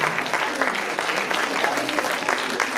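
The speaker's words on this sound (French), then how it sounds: "On peut les applaudir" An audience at a spring poetry event in Vence applauds students and dancers, with steady, moderately loud clapping from many hands throughout.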